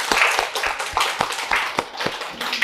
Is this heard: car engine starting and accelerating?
no